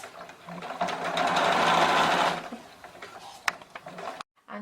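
Sewing machine stitching along a marked yellow line while making a wig: steady whirring run of about two seconds, then a pause with small mechanical clicks and one sharp tap, and a brief final burst.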